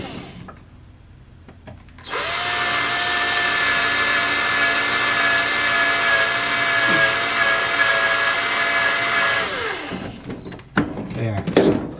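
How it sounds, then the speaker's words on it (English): A cordless drill whirs steadily at high speed for several seconds, center drilling metal bracing on a C4 Corvette, close and loud, then winds down, with brief handling noises before and after. "cordless drill that I'm actually going to be able to get in here to center drill this"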